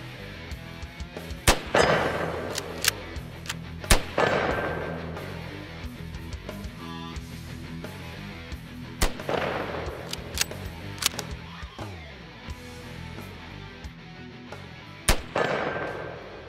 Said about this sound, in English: I think I'll just keep plinking with my Mosin here